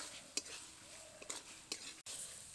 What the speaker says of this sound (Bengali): মশলার সাথে আলুগুলোকে দিয়ে আবারও কিছুক্ষণ ভালো করে কষিয়ে নেব।